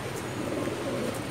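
A pair of healthy chila pigeons coo softly and steadily, a low continuous murmur close by with no talk over it.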